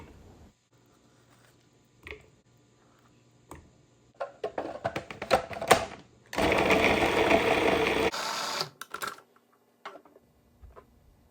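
A food processor blends two large halved, pitted avocados for a chocolate mousse, giving a loud steady whirring burst of about two seconds after scattered clatter and clicks from loading the bowl.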